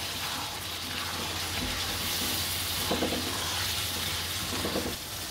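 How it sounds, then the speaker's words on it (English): Halved tomatoes being stirred into a simmering Indian coconut fish curry, with a steady sizzle and bubbling throughout and a few soft scraping stirs of a utensil in the pan. "you can insert the tomatoes that has been halved. Give them a stir."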